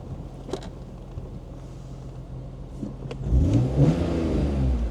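BMW E46 M3 engine idling low and steady, then surging into a louder rev about two-thirds through, with faint wind noise over the microphone.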